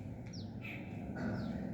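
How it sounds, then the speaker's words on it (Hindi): Faint morning birdsong drifts in from a distance: a few thin, short chirps and whistles over a steady background hum, with no voices. "ये अभी चिड़िया बोल रही,"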